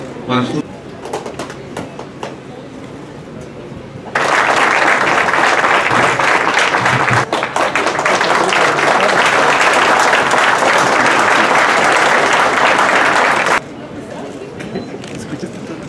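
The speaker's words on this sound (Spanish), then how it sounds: "el aplauso" An audience at the declaration ceremony for the Danzón in Zacatlán breaks into loud, sustained applause lasting about nine seconds, with speech and pigeons cooing softly before and after it.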